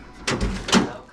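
Door of a 1977 Buick Regal fitted with an aftermarket latch being shut, giving a couple of close, quick clunks as it swings and catches.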